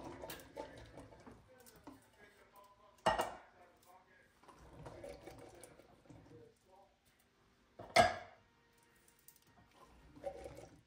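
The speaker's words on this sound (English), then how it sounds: "We have drained and rinsed these beans, so I'm just going to add them to the pan." Drained Great Northern beans tip into a pan with two sharp clanks of metal, one near the start and one later, between soft shuffling and scraping, while people talk throughout.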